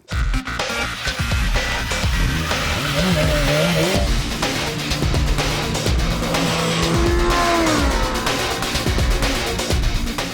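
A BMW M 1000 RR motorcycle laps a race track, its engine revving and rising in pitch through gear changes, loud and continuous with some tire noise, while a voice talks over it at times.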